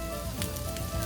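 Red onions sautéing in a pan, a dense continuous sizzle close up, steady throughout with no voices.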